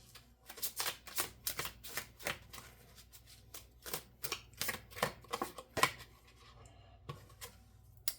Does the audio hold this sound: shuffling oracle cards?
yes